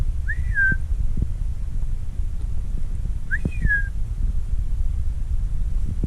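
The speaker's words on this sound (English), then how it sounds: "I just gave a few whistles and the Whiskey Jacks came." A person gives two rising-and-falling whistles, a few seconds apart, to call gray jays (whiskey jacks) near cabins, heard clearly over steady outdoor background noise.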